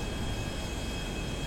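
Airplane flying in a video game, a steady, even engine drone that holds constant and moderately loud, with no voices.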